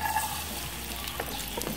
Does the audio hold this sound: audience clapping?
no